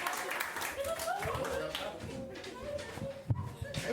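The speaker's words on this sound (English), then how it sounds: "Big round of applause and welcome to the stage" A comedy club audience claps to welcome comedian Daniel Walker onto the stage, steady applause with a host's voice and a few chuckles mixed in.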